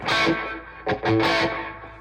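A distorted Washburn N4 Ash electric guitar rings out with reverb, a strummed chord followed by a few sustained notes that trail off in a wash of echo.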